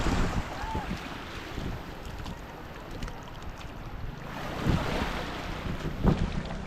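Sea waves wash in with wind buffeting the microphone at Dwarka beach in Gujarat, a steady surf hiss with a few louder surges, and no speech heard.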